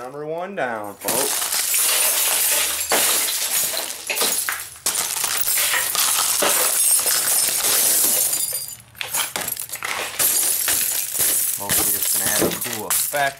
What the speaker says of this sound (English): I like how that glass shatters like that.